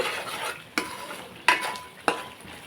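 A cumin, onion, tomato and ginger-garlic paste masala for a fish curry fries in oil, stirred with three sharp, close scrapes of a spoon against the pan over a steady sizzle.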